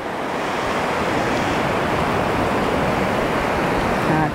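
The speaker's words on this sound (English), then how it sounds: "Okay, here comes some water." Surf rolling up a fishing beach in a steady, loud roar of breaking water and wash, with wind buffeting the microphone and the rush swelling slightly toward the end.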